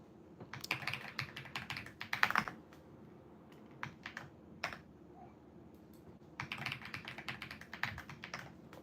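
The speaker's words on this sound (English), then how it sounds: "Pretty thocky keyboard I got too." Fast bursts of keystrokes on a thocky mechanical keyboard, close and clear, with a short pause in the middle before the typing picks up again; no talking.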